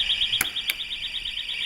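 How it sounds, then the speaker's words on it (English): A building fire alarm, set off from a break glass call point, sounds as a steady pulsing electronic tone with rapid regular beats, close and alone, with two brief clicks near the start. "Once the alarm has been raised"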